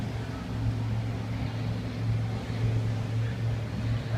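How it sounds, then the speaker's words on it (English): A motorboat's engine off Fort Myers beach hums with a steady low drone, close by and constant throughout, over faint background wind. "That sounds like Tim's boat"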